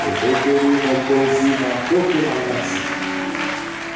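Church congregation clapping loudly with voices singing and shouting over it, a full, continuous roar close up that fades slightly toward the end.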